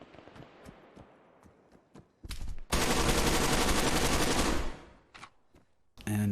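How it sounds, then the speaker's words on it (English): A sustained burst of automatic rifle fire empties a full magazine in the military shooter Arma 3, loud and close, after scattered single shots and distant gunfire, followed by more isolated shots. "just went for another mag dump"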